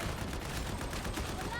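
Video game gunfire rattles in rapid, overlapping bursts, a dense, continuous volley of shots throughout the short stretch.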